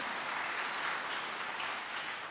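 A church congregation applauds for Jesus during a bilingual Christmas sermon, a steady wash of many hands clapping together, moderately loud and even throughout the short stretch with no voices on top.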